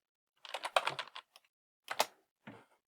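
Typing notes on a computer keyboard, a quick burst of key clicks followed by a few separate short clusters of keystrokes, close and clear against silence.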